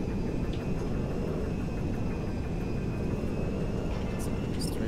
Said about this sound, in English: He's taking the cargo. Just the cargo plane and just flying it over us.